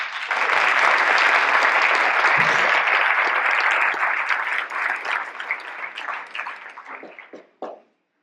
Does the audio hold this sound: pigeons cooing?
no